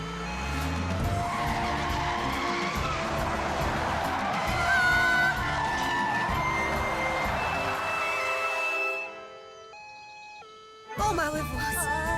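A cartoon bus skids hard under braking in an animated firefighter rescue, a loud sustained tire squeal over engine roar with rising tonal whines, then an abrupt drop to near silence and a short final burst.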